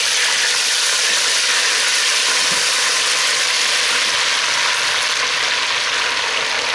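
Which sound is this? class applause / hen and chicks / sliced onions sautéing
sliced onions sautéing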